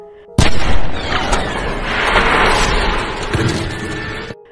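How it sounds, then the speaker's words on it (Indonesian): A gunshot rings out in a film scene, a sharp loud onset followed by several seconds of dense, rumbling reverberant noise that swells and fades before cutting off abruptly. "ia malah disambut oleh sebuah tembakan yang menyasar ke pipinya"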